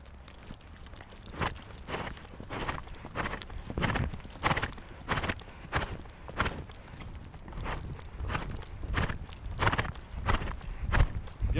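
A horse's hooves clop in a steady, even rhythm on firm ground during a riding lesson, close and clear with faint ambient noise.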